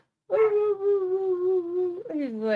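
A dog outside gives a sustained, tonal whining howl that bends upward near the end, clear and fairly close, with no barking.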